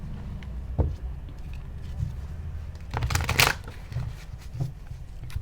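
Tarot cards are shuffled close by, with soft riffling and slapping bursts, a denser flurry near the middle, over a low steady background hum.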